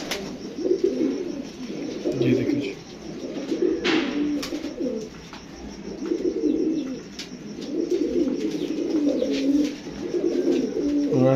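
Pigeons coo repeatedly close by in a hobby loft, in rhythmic rolling bursts with short gaps, while someone speaks briefly over them.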